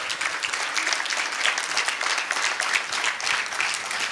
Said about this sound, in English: Huge round of applause for the most powerful ladies on the stadium.